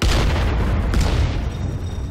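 Explosion in the VR game The Lab's Slingshot mode: a loud, deep booming blast with rumbling low end and scattered debris crackle, decaying over about two seconds.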